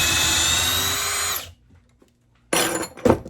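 A Ridgid drill in drill mode at speed 2 drives a 6-inch timber lock screw, whining loudly and steadily before stopping abruptly; after a short silence come a couple of brief, rough bursts of drilling.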